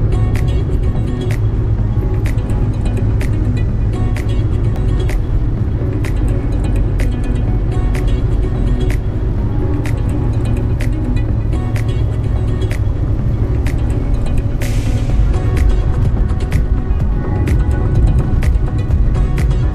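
Tata Nano car driving along a road in Konkan on the way to Pune, engine and tyre noise a steady loud rumble throughout with intermittent sharp clicks, no talking.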